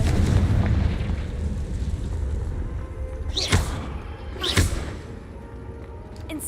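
Confringo explosion spells blast in a cave in Hogwarts Legacy: two sharp, bright bursts a second apart over a dense, rumbling low background of game noise.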